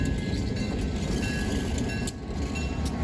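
A vintage passenger excursion train rumbles steadily along the rails, a dense close-up roar with a faint sustained squeal riding over the rolling wheels.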